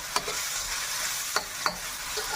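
Onions frying in a pan with salt for gobi manchurian, a steady hiss of sizzling oil broken by a few sharp scrapes of a stirring spoon, close and moderately loud with no talk.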